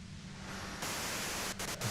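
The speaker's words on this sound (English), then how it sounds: "If you've got something really important to say, you can do it through the white noise" Harsh white-noise static from the video game Disco Elysium holds steady and then jumps louder partway through, with brief dropouts near the end.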